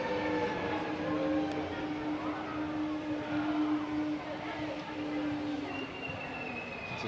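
Double-decker passenger train at a station in Amsterdam, a steady rumble of rolling stock with long humming tones and a high whine near the end, continuous and fairly close.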